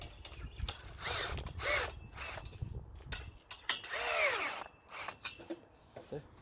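A fastener on a greenhouse hoop is tightened with a tool in a string of short, uneven ratcheting and whirring bursts separated by pauses, fairly close and moderately loud.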